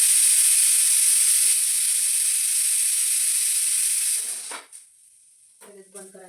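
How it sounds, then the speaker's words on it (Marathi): A pressure cooker whistle vents steam during cooking of puran poli, a loud, steady hiss that holds for about four seconds, then cuts off and gives way to quiet kitchen sounds and brief voice. "आधी कुकरला दुसरी शिट्टी आहे"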